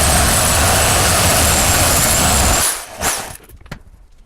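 Power tool cutting down a suspension bushing during a Crown Victoria subframe swap on a 1976 Ford F150. A loud, close, steady grinding roar runs for about two and a half seconds, then cuts off, followed by a few faint knocks.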